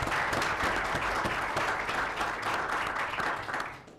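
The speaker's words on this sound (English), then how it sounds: "ask if we could have a round of applause for all of our speakers today." Audience applause after speakers at a law lecture on the Supreme Court: dense, steady clapping from a roomful of people that fades slightly at the end.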